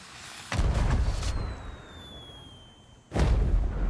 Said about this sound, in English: a cool thing about Sea of Thieves fireworks is that they actually do look like stuff